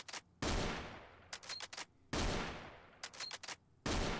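Winchester M70 bolt-action rifle in a shooter game, three loud booming shots spaced about 1.7 seconds apart, each followed by a quick series of bolt-cycling clicks, close and with no talk.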